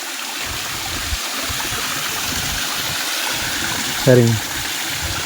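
Clear spring water flowing near Kanyakumari makes a steady rushing trickle throughout, close and continuous. Someone briefly speaks near the end.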